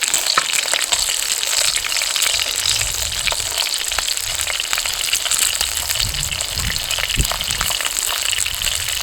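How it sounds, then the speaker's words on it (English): Pork chop and broccoli fry in a pan outdoors, a steady close crackling sizzle with bright spattering pops running throughout, no voices over it. "Just going to get some of this broccoli in here now."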